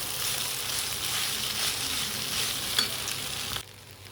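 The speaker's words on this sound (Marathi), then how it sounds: "आता भिजवलेले पोहे याच्यामध्ये टाकून दिले मिक्स करून घेऊया" Soaked poha mixed into an onion tempering in a pan for kanda pohe gives an even sizzle with soft scraping stirs and one clear knock, then drops away suddenly near the end, with no voices.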